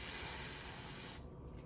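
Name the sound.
spraying wig glue near forehead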